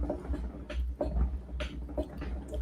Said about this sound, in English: That's the sound of my table moving up.